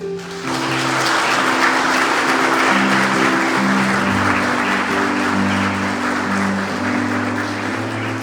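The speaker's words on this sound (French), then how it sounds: "On peut les applaudir" A church congregation applauds during Sunday Mass, a steady, dense wash of clapping that fills the space, with sustained organ or music tones underneath throughout.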